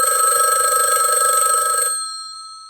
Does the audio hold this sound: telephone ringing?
yes